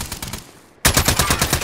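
Rapid automatic gunfire in the Warzone video game on Rebirth Island, a burst of shots, a brief lull, then a louder, denser volley of repeated cracks close by.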